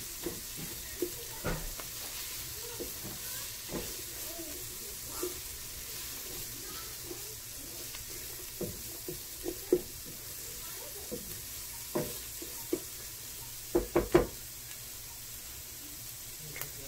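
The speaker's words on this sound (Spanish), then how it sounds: "aquí estamos friendo la cebolla y el ajo." Quiet steady sizzling of onion and garlic frying in a pan, with occasional light clicks and taps of stirring; no talking.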